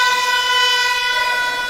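A loud basketball game-end buzzer at a Spanish first-division men's game between Universidad de Oviedo and Gijón Basket, a sustained harsh electronic tone holding steady for the whole moment without a break.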